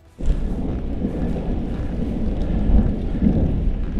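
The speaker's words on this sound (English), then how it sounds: "Thunder." Deep, rolling thunder from a thunderstorm near Ebbetts Pass rumbles continuously for several seconds, a low heavy roar that swells slightly toward the end.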